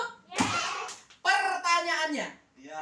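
A group of children claps once in unison at a Ramadan-welcoming storytelling gathering, a short sharp burst followed by young voices chanting and talking nearby.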